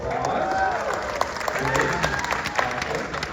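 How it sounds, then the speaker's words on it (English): Audience applause at a North Central High School choir concert, a crowd clapping steadily with scattered sharper claps and cheers, while voices talk over it. "Show me my applause."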